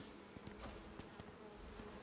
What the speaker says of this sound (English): Get away from me, bees.